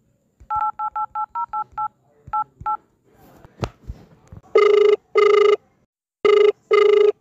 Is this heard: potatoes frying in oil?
no